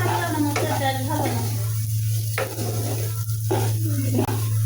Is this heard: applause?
no